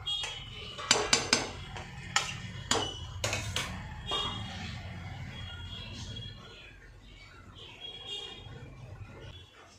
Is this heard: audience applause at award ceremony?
no